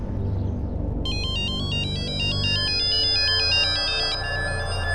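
A phone ringtone plays a repeating electronic melody over a low background hum, steady and clear for several seconds.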